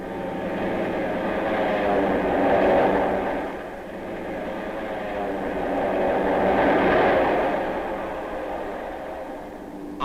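Japanese attack planes from 1951 WWII documentary footage of the Aleutians campaign drone steadily, their engine roar swelling and fading twice over ten seconds, moderately loud with a grainy old-film quality.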